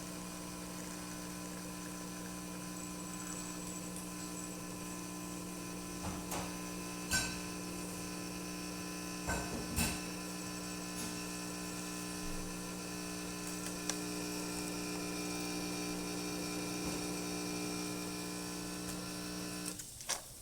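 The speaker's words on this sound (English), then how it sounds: "This is great shot coming out of this machine." An ECM Giotto espresso machine, freshly serviced, runs its pump to pull a shot, giving a steady, even mechanical hum with a few faint clicks and knocks over about twenty seconds.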